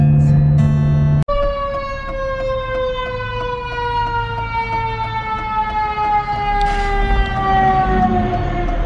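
An ambulance siren passes by, a loud wailing tone with strong harmonics that slowly drops in pitch as the vehicle moves away, following a sharp click at the start.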